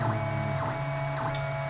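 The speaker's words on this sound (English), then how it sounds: "A benchmark, if you will, of how the printer is printing." A Robo R2 3D printer runs a benchmark test print, giving a steady close whirring motor hum with faint rhythmic tonal sweeps as the print head moves.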